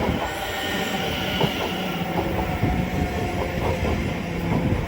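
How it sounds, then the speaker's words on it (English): A Greater Anglia Class 720 electric multiple unit pulls into Shenfield station on the Great Eastern Main Line, a steady loud rumble of wheels on rail with squealing and rhythmic clicks over joints throughout. "Incoming now is the 1648 Greater Anglia service from Liverpool Street to Southend Victoria. Leading the way is 720 552."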